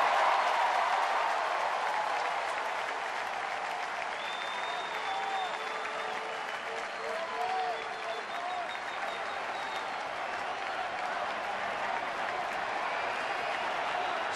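A sellout baseball stadium crowd of about 39,000 roars and applauds in a dense, sustained wash of cheering that stays loud throughout, with faint whistles rising above it.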